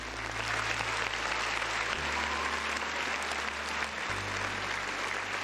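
A continuous, even roar of applause plays during a gaming livestream, holding at one level throughout with low sustained tones humming underneath.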